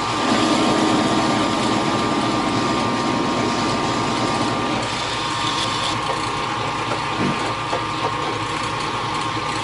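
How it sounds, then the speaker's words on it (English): A drill bit feeding into a metal feed plate for a Logan 8-inch shaper, a steady machine drone with a strong whining tone that drops and changes character midway as the cut deepens, loud and continuous. "I was just trying to feed that in there, get to my depth right now."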